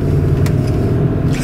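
A Hummer H2 SUT with a 6.2L V8 accelerating, giving a loud, steady low engine rumble that holds strong and close throughout with no talk.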